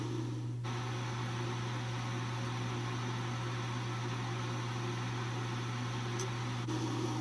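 A spin coater for photolithography runs with its lid closed, giving a steady low mechanical hum and even airy hiss throughout, with a faint click near the start and another near the end.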